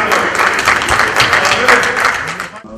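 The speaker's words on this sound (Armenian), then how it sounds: "ԲՀԿ-ականները ոգևորվեցին եւ սկսեցին ծափահարել" Members of parliament applaud after a bill passes a vote, a dense burst of clapping from many hands filling the chamber, with voices mixed in.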